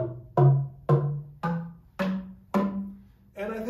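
Tuned tubes ring out a seven-note Western scale as a rising series of separate struck notes, each clear and bell-like with a ringing decay, played alone at an even pace.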